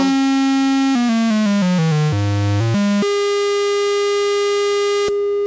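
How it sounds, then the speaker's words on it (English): A Micromac synthesizer oscillator set to a square waveform gives a loud, buzzy, hollow tone. It steps through a run of descending and rising pitches, then holds a sustained note. "Here's the square waveform."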